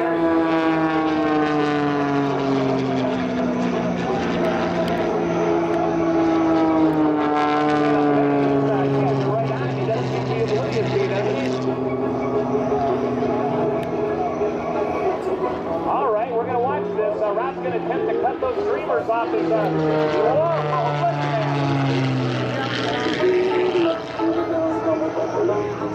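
An aerobatic propeller plane flies at an outdoor air show and balloon festival, its engine droning loud and steady with rising and falling pitch sweeps as it maneuvers, continuous for the whole stretch.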